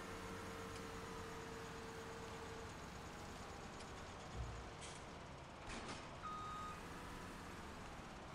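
Reversing beeps from a truck in the Farming Simulator American Outback map, faint steady chirps running under a constant engine and ambient drone, with a few brief clanks and hisses partway through.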